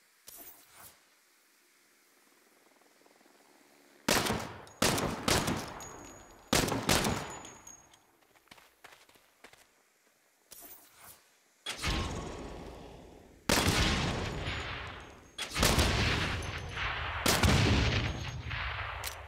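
Gunfire from the Saints Row reboot comes in loud, close bursts. Several rapid volleys arrive in separate clusters, broken by short quiet gaps, and each volley cuts off sharply.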